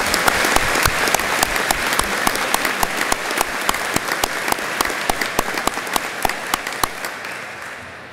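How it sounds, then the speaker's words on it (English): Audience applause fills a police academy graduation ceremony for the Indiana State Police 82nd class, a loud, dense, sustained clapping from a large crowd that fades slightly toward the end. "So a round of applause for her as well."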